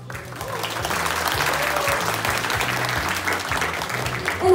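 Audience applause and cheering fill a live event such as a wedding band show or company party, a steady dense clapping wash with bass from background music pulsing underneath, swelling slightly toward the end.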